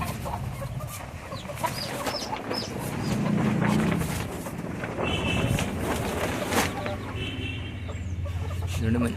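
A Rasangi breed hen clucks in short, close bursts on a poultry farm, with wind buffeting the microphone and other fowl sounds around it.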